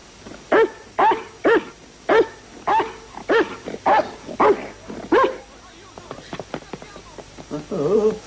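A dog in a cartoon barks about ten times, in loud, evenly spaced sharp barks, followed by quieter scuffling and a brief whimpering sound near the end.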